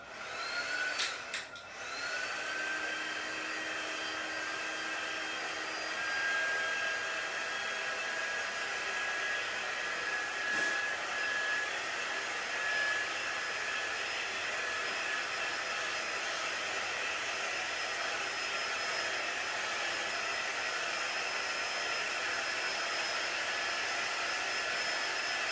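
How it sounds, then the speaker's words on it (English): A handheld heat tool blows steadily to dry brown craft paper art, a continuous whirring hum that runs at an even, moderate level for about twenty-five seconds without talk. "Let me get my heating gadget, my heating tool. And I'm going to quick dry this area."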